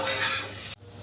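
Dried red chillies fry in a pan with a short burst of hiss and stirring scrape that cuts off abruptly after under a second.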